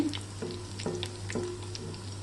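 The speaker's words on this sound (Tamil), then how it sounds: "சைடு நல்லா ஃப்ரை ஆகிட்டுருக்கு" Mutton chops frying in hot oil on a low flame, giving a steady close sizzle with faint bubbling crackles throughout.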